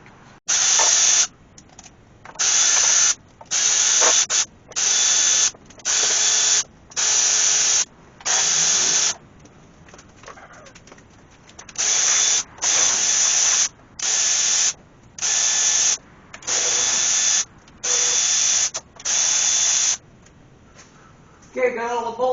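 A ratchet with a 9/16 socket removes the starter bolts from a faux hemi engine, producing loud, close bursts of rapid clicking, roughly fourteen runs of about a second each separated by short pauses, with one longer gap midway.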